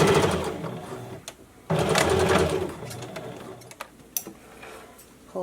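A sewing machine stitches a pocket on a fabric face mask in short, close bursts of rapid needle chatter. Two main runs are separated by pauses and light handling clicks.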